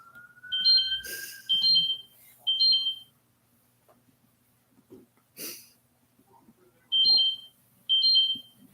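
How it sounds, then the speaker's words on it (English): A repeating electronic alarm sounds in short, evenly spaced pairs of high beeping bursts, loud and close, with a quiet pause in the middle and a couple of brief clattering noises between. "My alarm keeps going up."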